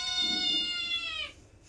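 A house cat gives one clear, drawn-out meow, bright and harmonic, holding for about a second before falling away, heard close and alone against quiet background noise.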